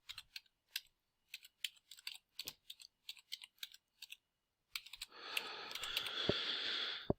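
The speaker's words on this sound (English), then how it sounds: "So if I just type one in" Someone types a website address on a computer keyboard, producing quick bursts of close, crisp key clicks with short pauses, followed by a softer, steady rustling noise.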